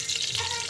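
Mustard seeds sizzle briefly in hot oil that was reused after frying vadai, a short, dense, close hiss and crackle with no voices.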